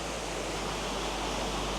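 Steady, close rush of small water flowing and trickling over mossy stones on Lushan mountain, a continuous broadband wash with no voices.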